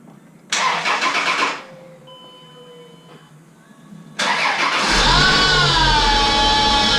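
A car being flipped for resale starts up: a short burst of starter cranking, a quiet pause with faint squeaks, then the engine catches and settles into a loud steady run with a squealing belt on top.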